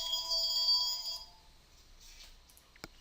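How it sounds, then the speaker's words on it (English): A mobile phone ringtone chiming with a steady electronic melody that is clear but moderately quiet, fading out after about a second and a half, followed by quiet room noise and a couple of small clicks. "you heard my phone ring there"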